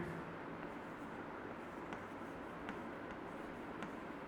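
Chalk writing on a board in a chemistry classroom gives faint scratchy strokes and light taps over a steady background hiss, with no talk.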